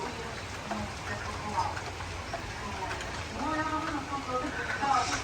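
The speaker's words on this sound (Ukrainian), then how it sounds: "В нас дощ, як і обіцяли, в нас дощ." Steady rain falls outdoors as a soft, even hiss and patter, fairly faint, with a bit of background murmur and a slight rise in the last seconds.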